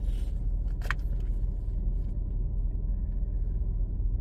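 A car drives in heavy morning commuter traffic in Canada, giving a steady, close low engine and road rumble throughout, with a brief jingling near the start.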